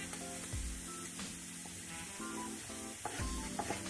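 Onions frying in a pan over low heat, a steady soft sizzle running throughout with a few brief clinks and stirring touches, close and fairly quiet with no talking.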